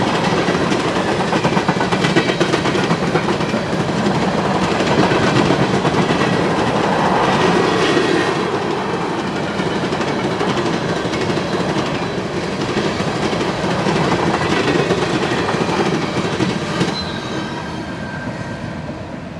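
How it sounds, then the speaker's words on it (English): A long coal train rolls past close by near Harrisburg, wheels clattering and rumbling loudly over the rails in a continuous, steady roar. "Trains 590 through 597 are all Baltimore-based coal trains."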